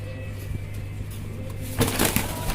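Indian Lotan pigeon cooing in a low, soft call at a pigeon seller's, with a burst of flapping wings or rustling near the end.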